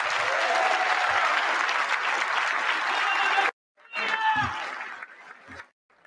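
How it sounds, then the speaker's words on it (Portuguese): Prolonged applause from an audience after a speech at an electoral court diploma ceremony, a loud sustained roar of clapping that cuts out abruptly, then returns briefly and fades. "Será longamente aplaudido"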